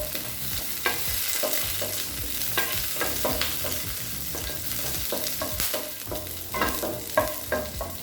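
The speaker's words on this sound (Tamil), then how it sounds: "இப்போ பூண்டை நல்லா ஈரப்பதம் போக வறுத்துக்கணுங்க." Garlic, lentils and curry leaves dry-roast in a pan for paruppu podi, with steady scraping and stirring strokes and light rustling crackle, close and continuous, no voices.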